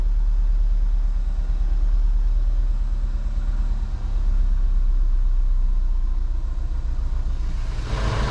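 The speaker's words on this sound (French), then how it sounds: "là on entend le régime moteur, il est descendu" A rebuilt Cupra 2.0 TSI (CJX) engine idles steadily with a low, rumbling pulse, close and continuous, its revs settling slightly lower partway through.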